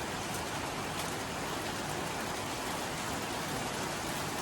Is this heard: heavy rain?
yes